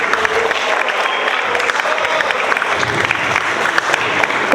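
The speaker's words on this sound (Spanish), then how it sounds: "le damos un aplauso en esta escuela" A school audience applauds a director with steady, dense clapping that fills the room, a loud continuous patter with a faint crowd murmur beneath.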